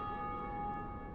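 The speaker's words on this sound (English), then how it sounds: "Grab the bonfire and ring the bells." A bell tolls in Dark Souls, a faint sustained metallic ring with steady overtones lingering over a low background hum.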